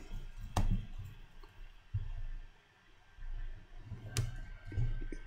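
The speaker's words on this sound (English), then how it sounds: "Right clicking." A computer mouse on a Mac clicks twice, sharp and close, several seconds apart, over faint low background noise.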